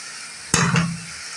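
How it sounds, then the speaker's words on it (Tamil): Three tomatoes and three onions sautéing in a pan with rock salt: a sudden sizzle bursts up as the food is stirred, then fades into a softer frying hiss, with a small scrape at the end. "ஒரு 3 தக்காளி 3 வெங்காயம் போட்டிருக்கோம். நல்லா வதங்கட்டும்."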